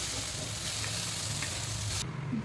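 Shallots and brinjal fry in a pan for a brinjal pickle, giving a steady, close sizzle with light stirring scrapes throughout before it cuts off abruptly near the end; no one speaks.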